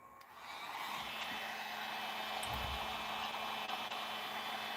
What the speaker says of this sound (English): So there goes the heat gun.